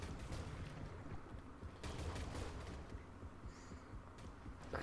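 Rapid gunfire in the underwater shark game Depth as a player unloads on a shark, repeated bursts of shots blending into a dense, rumbling, muffled wash of noise.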